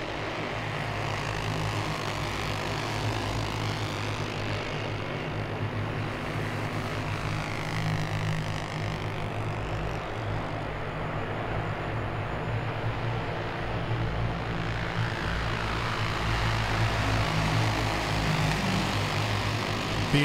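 Champ karts race around Langley Speedway, a continuous dense roar of small engines that swells and fades as the pack passes, loud and unbroken throughout.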